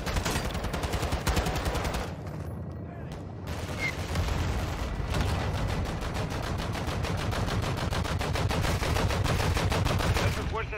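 An attack helicopter's gun fires on a vehicle in the Call of Duty: MWII campaign finale, a loud, steady rapid-fire stream of shots that runs for several seconds amid battle noise, with radio voices talking at times.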